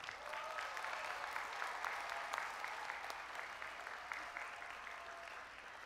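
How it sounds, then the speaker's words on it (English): A graduation audience gives a sustained round of applause for parents and families, with dense, steady clapping filling the whole stretch and heard from a slight distance. "Let's give your parents and families one more round of applause."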